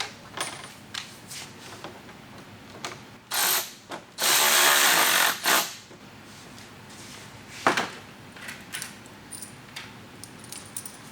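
A power tool drives a one-inch screw with washer up from below into a mud flap insert on a 2022 Hyundai Santa Cruz, giving two short, loud whirring bursts among light clinks and handling noise.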